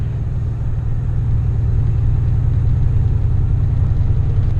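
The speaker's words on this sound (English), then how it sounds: "So it is just lugging right now. I give it throttle and it's just lugging. Lugging and lugging and lugging at 1200 RPM." A turbocharged Chevrolet Silverado engine lugs at about 1200 RPM in overdrive with the converter locked, giving a steady, loud low rumble that holds throughout with no voices.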